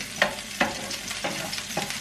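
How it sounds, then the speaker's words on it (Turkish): Chopped village peppers sizzle in a little oil in a pan, with a steady fry hiss broken by four sharp scrapes and clatters as they are stirred. "Onu da hemen yıkadım, doğradım. Çok az bir sıvı yağla. Biraz çevireceğim."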